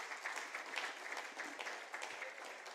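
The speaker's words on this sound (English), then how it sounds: "a round of applause." Audience applause at the QS Africa Forum 2023 hosted by Covenant University, a steady, dense wash of many hands clapping at moderate distance, fairly quiet and continuous throughout without speech over it.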